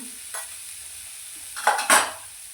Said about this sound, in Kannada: ಇದನ್ನು ಚೆನ್ನಾಗಿ ಈ ಥರ ಫ್ರೈ ಮಾಡ್ಕೋಬೇಕು ಸ್ವಲ್ಪ ಹೊತ್ತು